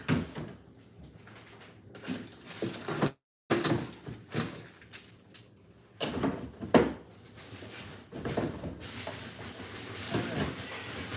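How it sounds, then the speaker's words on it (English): Drawers slide open and shut among clattering and rustling as belongings are packed away while unpacking, several bumps and scrapes close by over a busy room. "So fit what we can in the drawer, and then put the rest in the other drawer."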